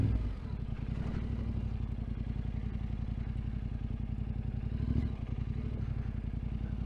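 An adventure motorcycle, a T7, rides off-road near Dolgellau with a steady, close engine drone and rattling clatter throughout, swelling briefly near the end, with no talking.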